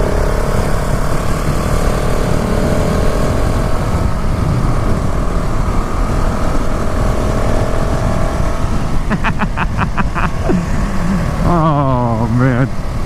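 A 2019 KTM SMC R motorcycle being ridden through corners, its engine and wind roar filling the clip steadily and loudly, with a brief rising rev toward the end.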